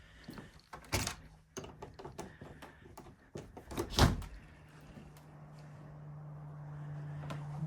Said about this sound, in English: this was that back door that opens up to the roof